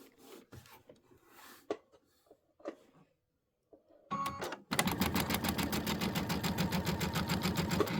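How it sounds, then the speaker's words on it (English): Sewing machine joining two fabric pieces with a short stitch length: a few quiet handling rustles and taps, then the motor starts and runs steadily with a rapid, even needle chatter to the end. "line these up and go ahead and sew both sides together"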